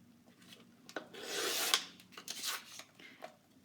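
A paper trimmer slices scrapbook paper for a 12x12 page layout, giving a soft scraping, rasping glide of about a second with quieter sliding and tapping noises around it, close and fairly faint.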